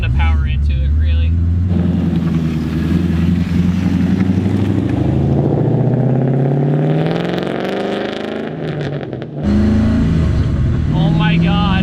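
A Ford Mustang GT Coyote V8 swapped into a Nissan 240SX with F-150 headers revs hard and climbs in pitch, a loud close rumble that surges, drops briefly, then roars again, with voices over it.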